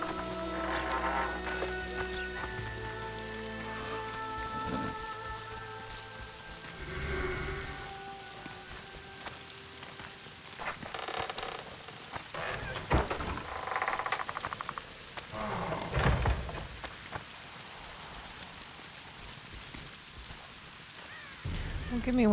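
Rain falls in The Witcher 2 video game, a steady patter on surfaces under game music, with scattered louder effects and occasional bursts of noise.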